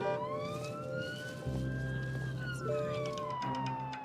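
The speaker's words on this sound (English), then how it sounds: "I'm just going to put the sirens on" A police siren wails, its pitch sweeping slowly up and down, with a steady vehicle rumble underneath.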